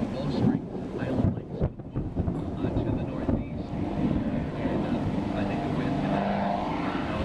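An airplane drones overhead in stormy tornado weather, its low steady engine roar mixed with gusting wind noise. People talk over it throughout.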